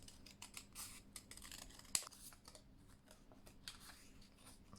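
Scissors snipping paper into a heart shape, a quiet close series of short crisp cuts in uneven rhythm, with one sharper snap partway through and no talking.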